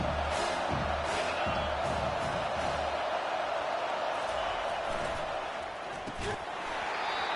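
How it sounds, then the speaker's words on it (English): A stadium crowd at a football game roars steadily as a dense wall of cheering, loud and continuous, with a commentator's voice talking over it. "This crowd knows when to bring it."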